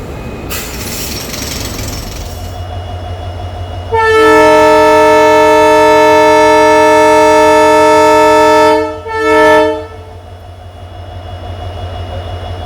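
The Subramania Mangalore passenger train arriving at a station platform, rumbling in before a long, loud multi-tone horn blast followed by a shorter second honk, close and dominant.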